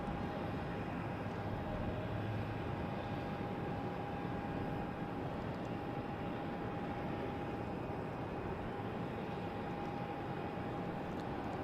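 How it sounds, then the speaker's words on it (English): Turkish Airlines Airbus A350 arriving at Logan from Istanbul at dusk: a steady, continuous jet roar with a faint tonal whine, constant loudness throughout, heard from a distance without any talk. "Turkish Airways coming in from Istanbul. A350. It's an Airbus."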